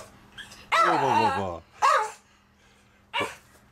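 A dog barks nearby in a few loud, separated bursts, the first one long and drawn out, then two shorter barks.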